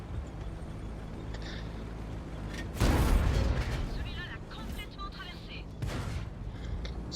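In a tank battle video game, a cannon shot strikes an enemy STI tank with a sharp, heavy boom that trails into rumbling, followed by a second, softer blast, all under continuous game noise while someone talks over it.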